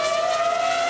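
A Ferrari Formula 1 car in qualifying at the 2000 Canadian Grand Prix screams along the track with a loud, steady high-pitched engine whine, held close and even for the whole moment.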